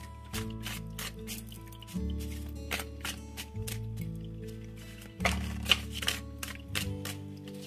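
Tarot cards being handled and shuffled close by, soft slapping and sliding bursts repeating in clusters over a steady background hum.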